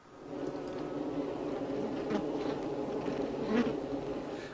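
Honey bees swarm inside a hive, a dense, close, continuous buzzing hum of many insects, steady in level and with no talk.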